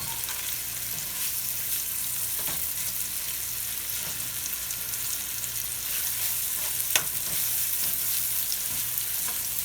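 Thin-cut chicken shawarma fries in a pan with a steady, dense sizzle, spattering throughout and punctuated by a few sharper pops and crackles, close and fairly loud with no talking.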